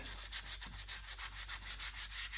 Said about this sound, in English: So you don't have to watch me sand.